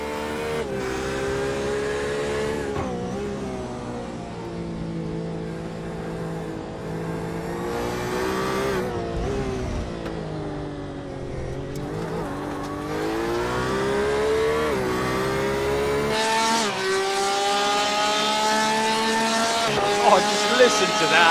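Onboard sound of a Porsche race car during a W12 Sprint Series sprint race, its engine droning loudly and steadily with rising and falling revs through gear changes, the tone climbing sharply near the end.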